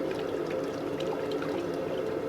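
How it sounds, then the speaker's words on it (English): Hot blacksmith iron being quenched in water at a heritage fair, giving a steady, soft hiss and bubbling wash of liquid that holds evenly throughout, close by with no talking. "But when I cool it off in water,"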